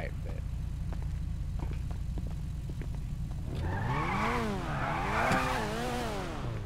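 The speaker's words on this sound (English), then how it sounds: "He's revving the engine and skirting the tires." A car outside a police traffic stop revs its engine hard while its tires squeal and skid, rising and falling pitch sweeps building in the second half over steady low rumble and crowd noise.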